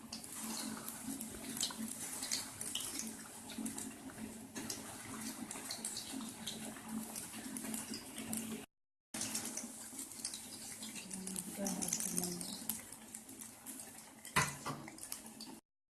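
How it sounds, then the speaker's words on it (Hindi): Gulab jamun dough balls frying in hot oil in a kadhai: steady, dense sizzling and crackling, close and continuous, with a brief break before the sizzle swells again. "एक कढ़ाई में तेल गरम कर लीजिए और इसमें धीरे धीरे से इस डो बॉल को डाल"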